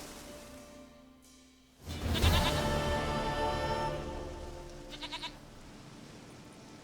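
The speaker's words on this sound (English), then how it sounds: "Goat of mine, dearest, sweetest goat." A goat bleats in The Witcher 3 game: after a quiet stretch one loud, wavering bleat breaks in, followed by a shorter quivering call, set against a soft game ambience.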